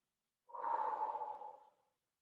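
A single deep breath during a yoga session, drawn out for about a second and a half, soft and close with a breathy, hushed texture and no talking.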